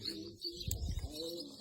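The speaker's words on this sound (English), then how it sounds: "Can't believe the cheek of these birds." Pigeons coo near someone eating outdoors, tame birds crowding close; soft low throaty cooing repeats through the clip with a brief chirp, close and moderately loud, no talk.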